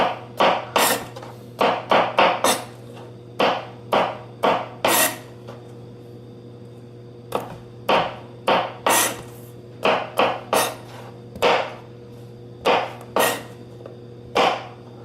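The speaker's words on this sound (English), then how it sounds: "Alright, we're just rough chopping all this." A knife rough-chops onions and other vegetables on a cutting board in sharp, irregular bursts of knocks with short pauses, close and clear over a low steady hum, with no talking.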